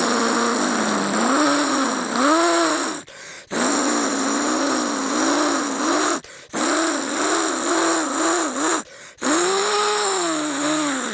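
A person imitates with the mouth a mixer grinder used for grinding pickle, a steady buzzing drone with wavering pitch, broken by three short breath pauses, loud and close with no other voices.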